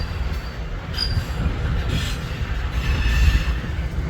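Freight locomotives from an intermodal train roll past at a Fremont, Nebraska rail line, a steady loud low rumble with engine drone and faint wheel squeal, building slightly toward the end.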